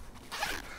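A zipper is pulled on the window of a Buteo Photo Gear Falco Mark II camouflage hide tent for lying-down wildlife photography, a single short rasping zip lasting about half a second, close and clear.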